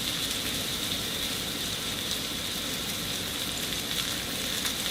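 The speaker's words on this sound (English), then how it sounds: "listen to that sizzle. That's what we wanted to hear." Salisbury steak patties browning in a hot pan give off a steady, dense sizzle, crackling evenly and continuously throughout with no voices over it.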